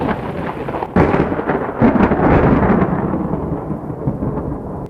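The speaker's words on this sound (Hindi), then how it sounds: "बादल गरजने लगे।" Deep thunder rolling through a stormy sky with darkened clouds and strong wind, beginning with a sudden crack and swelling into a long, heavy rumble that slowly fades, with faint rain beneath.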